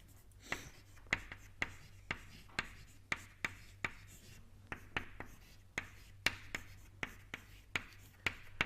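Chalk or marker writing an equation on a lecture board: a series of sharp taps and short scratchy strokes at irregular intervals, close and fairly quiet over a low steady hum.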